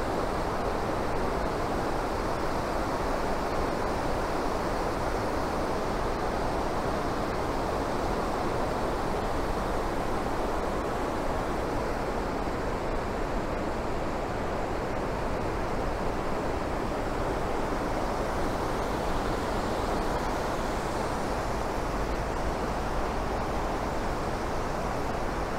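Rushing water of Låtefossen waterfall in Norway, a dense steady roar filling the whole clip, loud and unbroken with no voices.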